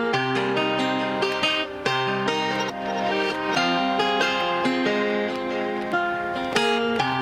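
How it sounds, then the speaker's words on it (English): A heavily compressed electric guitar melody plays a string of plucked notes, loud and up front, with small clicks and string noises brought forward between the notes and no talking. "As I compress it, more clicks and noises will be brought to the forefront."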